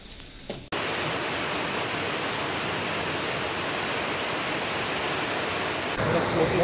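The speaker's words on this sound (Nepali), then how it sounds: "यो यस्तो बगिरहेको पानीले धेरै काम गर्न दिन्छ।" A waterfall roars with a loud, steady rush of flowing water that carries on almost unbroken. A short, quieter stretch comes right at the start, before the roar rises to full strength.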